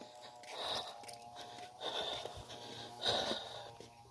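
Heavy, close panting from a person winded after a hike: three long, rasping breaths in slow succession, each swelling and fading over a soft background.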